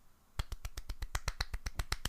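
A quick, even run of about fourteen sharp, light two-finger claps close up, evenly spaced like a small golf clap and heard alone after a brief quiet start.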